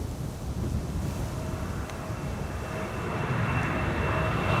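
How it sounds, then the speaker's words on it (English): A KLM Embraer 190 jet rolls for departure at Amsterdam Schiphol, its engine roar a broad steady rush that swells gradually, heard from a distance and mixed with heavy wind buffeting the microphone. "And of course the next airplane already rolling now."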